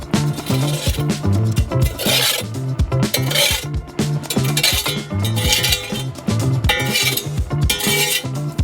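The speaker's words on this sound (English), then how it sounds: "Rake the coals to the sides." Coals raked to the sides inside a brick stove, heard as repeated scraping and rasping strokes with metallic clinks, close and loud in a steady rhythm with no talk.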